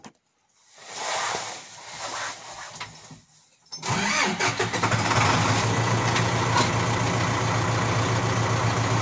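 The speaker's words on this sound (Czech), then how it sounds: "já spíš nastartuju motor" An engine cranks briefly, catches, and settles into a loud steady idle close by.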